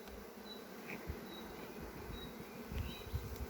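Honey bees hum faintly around a beehive, a soft continuous buzz with occasional brief louder passes close by and a few low knocks.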